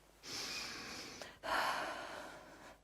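A wounded character in a medieval video game, Kingdom Come: Deliverance II, takes deep breaths, two long, close, airy breaths one after another with a short pause between them, quiet and alone.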